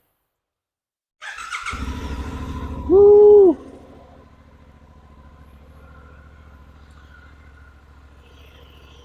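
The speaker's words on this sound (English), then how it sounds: "I don't know what it is about that Suzuki exhaust, but it is very distinct." A 2023 Suzuki V-Strom 800DE parallel-twin engine starts and revs sharply once with a rising whine, then settles into a steady idle rumble; a brief shout of excitement cuts in.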